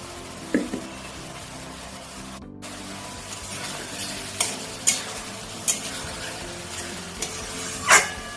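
Spices and fried potatoes sizzle steadily in a pan for a pomfret fish dish while a spatula scrapes and stirs in sharp strokes roughly every second.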